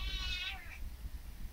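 A single cat meows once, a clear close drawn-out call that fades quickly into quiet room background.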